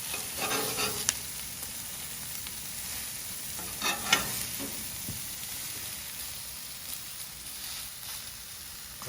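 Thick food cooking on a moderately hot griddle without added fat, a soft steady sizzle with occasional scraping and light clinks of a utensil, close and fairly quiet.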